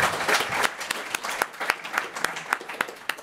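Listeners at a Python programming talk applaud the speaker, a short burst of mixed crowd clapping with distinct individual claps standing out in an irregular rhythm over the dense patter.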